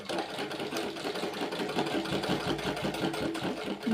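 A sewing machine stitches a sleeve onto a nightie with piping, a fast, even mechanical whir with a rapid needle rhythm running continuously and close.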